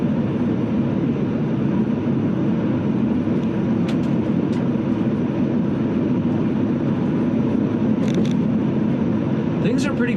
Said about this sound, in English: it's so much quieter because it's the noise of the gears that really makes the whining